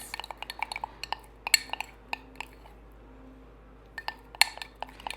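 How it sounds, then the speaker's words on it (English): A spoon clinks against a bowl while powdered sugar glaze is stirred to work out lumps, giving quiet, irregular taps and scrapes in close, faint bursts with short pauses. "We're just going to keep stirring it till we don't have any little sugar lumps"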